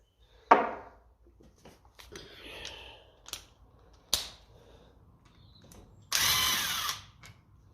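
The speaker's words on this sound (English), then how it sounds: "let's run them off with the drill" Short bursts of a power drill with a 14mm socket spinning off cylinder head bolts on a 1957 Ferguson FE35 tractor, with clicks and metallic clatter of loosened parts, ending in a longer buzzing run of the drill.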